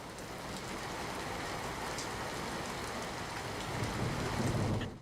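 Heavy rain pours down in Sabarkantha district, Gujarat, a dense, steady roar of downpour that swells slightly toward the end, with no voices.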